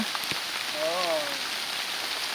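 Steady broadband hiss of rain falling in a forest throughout, with a brief tonal call rising and falling faintly near the middle.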